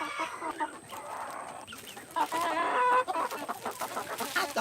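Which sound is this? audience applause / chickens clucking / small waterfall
chickens clucking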